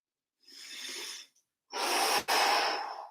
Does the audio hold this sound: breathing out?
yes